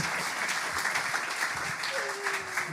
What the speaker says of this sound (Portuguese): Uma salva de palmas aos nossos convidados.